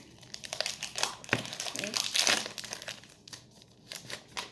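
Close, crinkly rustling of a plastic snack wrapper being pulled open, with a sharp tear partway through, continuing in irregular bursts.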